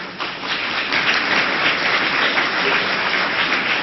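An audience at a speech by Tariq Ramadan breaks into dense, sustained applause, with many hands clapping together at a steady, loud level for several seconds.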